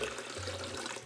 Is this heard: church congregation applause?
no